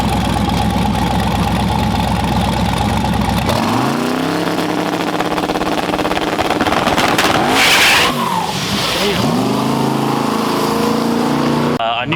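Twin-turbo Trans Am accelerating hard under boost, a loud sustained engine roar that climbs through rising revs and shifts near the listener, with faint talk underneath.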